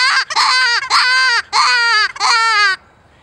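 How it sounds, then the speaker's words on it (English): A BR 84 baby rabbit predator call, blown through both sides, gives five loud, close, wailing squeals of a distressed young rabbit, each a harmonic cry with a short gap before the next. "to give you an example of what it sounds like,"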